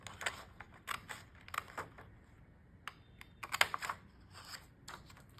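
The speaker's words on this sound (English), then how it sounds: "So we can cut the acetate paper like so." Scissors cut through a sheet of acetate for a hot cocoa pouch craft, making a string of crisp, sharp snips at an irregular pace, close up and quiet, with no talking.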